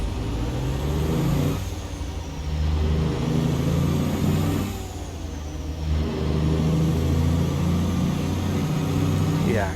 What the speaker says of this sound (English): Yeah, good sounding engine.